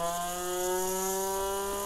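A 3D-printed three-phase electric jet motor spins at high speed, a loud steady whine with stacked tonal layers that climbs slightly in pitch as it holds near the top of its range.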